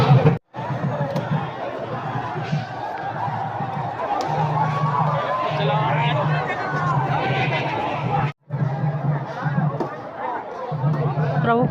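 Dense crowd hubbub and chatter at the Dharamgarh Ratha Yatra chariot festival, a steady wash of many voices, near and loud, with a recurring low drone and two brief dropouts.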